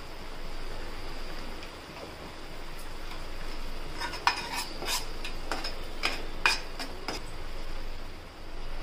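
Onion and garlic frying in a pan, a steady soft sizzle with a spoon or spatula clinking and scraping against the metal several times, close and moderately loud.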